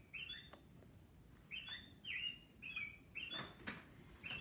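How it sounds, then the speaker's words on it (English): American robin singing outdoors in spring, a series of short clear whistled phrases repeated in a steady rhythm, faint and at some distance over quiet background. "Here is a robin."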